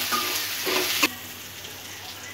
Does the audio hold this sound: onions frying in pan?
yes